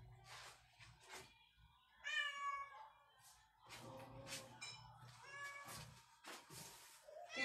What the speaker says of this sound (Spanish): El gato quiere agua.